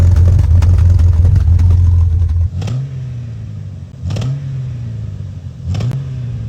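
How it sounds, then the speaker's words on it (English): A high-mileage Jeep Cherokee XJ engine running rough with a bad misfire: a close, loud uneven chug at first, then three separate revs with sharp bursts, each settling back into a lumpy idle. "The issue is I went to go fire this up and it had a nasty misfire."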